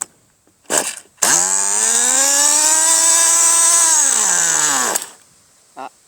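1/8 scale nitro RC car engine started with a push-button starter, a brief cough and then a loud, high-pitched buzzing run of about four seconds that drops in pitch before cutting out, with a short sputter afterward.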